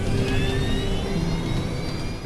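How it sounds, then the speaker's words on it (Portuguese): Loud, steady roar of American Airlines 191's DC-10 jet engines at takeoff power, a broad rushing whine with rising tonal lines as the three engines accelerate down the runway, heard continuously without talk. "Ao iniciar a aceleração para decolagem, tem 3 motores levando você para a pista."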